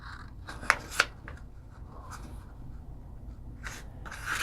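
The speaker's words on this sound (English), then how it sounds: "we're going to fold this in half, catty corner" Square origami paper being folded in half corner to corner, with a couple of sharp close crinkles followed by soft rustling and sliding of the sheet, faint and without speech.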